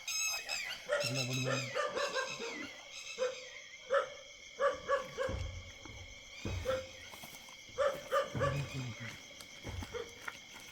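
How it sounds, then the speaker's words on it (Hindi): Dogs bark repeatedly at night in a village by the Jim Corbett forest, several voices overlapping in bursts, some near and some farther off, against a steady insect drone. "ये कुत्ता उसी के लिए भौंक रहा है"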